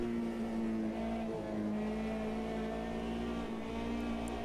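A McLaren race car engine in Automobilista 2 at Le Mans drones loudly and continuously, holding a sustained high-revving tone with small pitch shifts and no voices.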